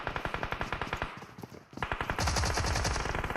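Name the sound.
gunshots in PUBG Mobile video game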